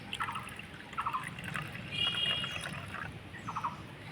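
Quiet trickle of lukewarm milk poured into a bowl for dough, a faint, thin liquid stream with small splashy bursts, heard close and alone.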